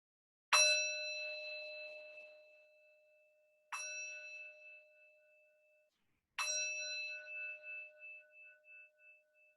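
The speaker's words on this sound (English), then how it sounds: "ending the practice when you can no longer hear the sound of the bell" A meditation bell struck three times at spaced intervals, each strike a clear bright ring that lingers and slowly fades, the last one pulsing as it dies away, close and alone in near silence.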